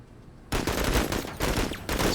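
Gunfire in the video game Menace: after a brief quiet start, loud rapid bursts of automatic fire crackle, pause briefly and resume, with no talk.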